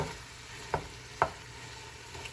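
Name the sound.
pork ribs sautéing in a pan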